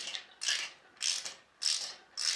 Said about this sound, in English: We're going to want to tighten this one all the way down so that the support bracket becomes level